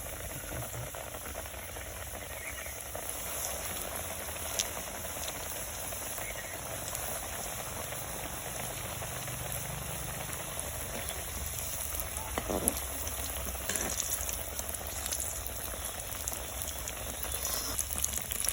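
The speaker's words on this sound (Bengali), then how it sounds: "এবার আমি তেলের মধ্যে ছেড়ে দেব।" Coated snacks fry in hot oil over medium heat with a soft, continuous crackle and bubbling that stays low and even, broken by an occasional faint tap or clink.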